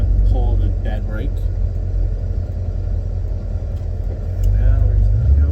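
A restored 1968 Ford Galaxie 500 with a 302 V8 drives along, a steady low engine rumble heard from inside the car, with someone talking briefly at the start and near the end.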